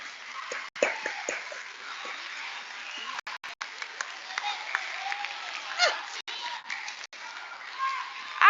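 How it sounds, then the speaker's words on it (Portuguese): Students at a school meeting clap for the guests, a thin, scattered patter of hands at moderate distance, with voices and room noise mixed in and brief dropouts. "Palmas para eles, gente."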